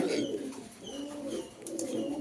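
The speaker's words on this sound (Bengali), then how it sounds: "মাদিটা হচ্ছে রানিং কবুতর ফুল রানিং" Pedigreed foreign racing pigeons, including a breeding female, coo in soft, repeated throaty phrases close by, with a few faint chirps in the background and no talking.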